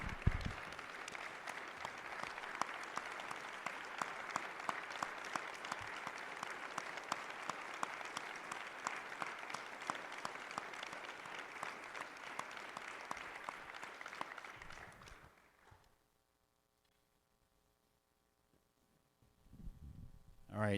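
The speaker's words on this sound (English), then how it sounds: "Can we give a big round of applause to a very courageous," An audience at a Colorado opioid abatement conference session applauds a panel on supporting families, with sustained, dense clapping for about fifteen seconds before it stops abruptly, followed by near silence and a faint return of room noise.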